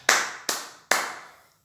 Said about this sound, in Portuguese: Se você entender isso, abençoado, aplaude ao Senhor.